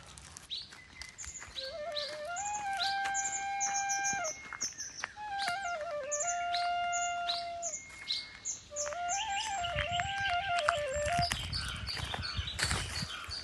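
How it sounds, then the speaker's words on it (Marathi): Morning birdsong: repeated bright chirping and warbling phrases come in several bursts over a soft background hiss, fairly close and clear. "सकाळी सकाळी जर पक्षाचा किलबिलाट कोणी ऐकला"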